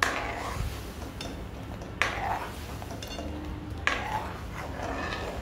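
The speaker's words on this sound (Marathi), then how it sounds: "तुपामध्ये मी दूध घातलेलं आहे आणि ते ढवळून घ्यायचं आहे चांगलं." A spoon stirs milk into ghee in a pot for rice kheer, giving three distinct metallic scrapes and clinks against the pot spaced about two seconds apart over a soft background hiss.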